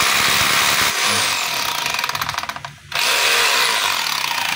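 DeWalt D25033 rotary hammer runs in chipping mode, a loud, steady buzzing hammer drone that briefly slows and dips near the three-second mark before revving back up to full power.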